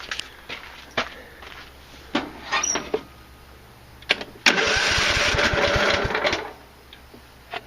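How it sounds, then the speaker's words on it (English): A Husqvarna YTH 150 lawn tractor engine cranks and briefly turns over with a loud, rough mechanical churning for about two seconds, preceded by scattered clicks and knocks. "the engine does turn over"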